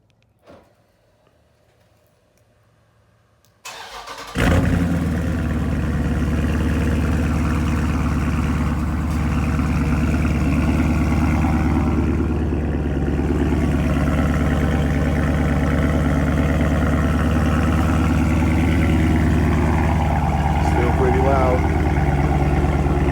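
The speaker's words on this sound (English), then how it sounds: "This is what it sounds like when you do a cold start." Dodge Charger Scat Pack with the mid muffler deleted cold-starts in a quiet neighborhood: near-silence, a starter whir, then a loud engine catch that settles into a steady, deep, rumbling idle held close for about eighteen seconds.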